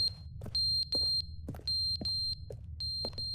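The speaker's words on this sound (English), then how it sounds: "Button is beeping." A button beeping in The Stanley Parable: Ultra Deluxe, with sharp high electronic beeps repeating in quick bursts of several at a time, loud and close over a low background hum.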